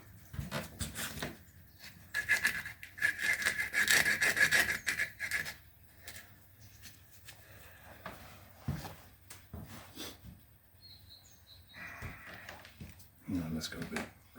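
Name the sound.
sanding wooden beard comb with sandpaper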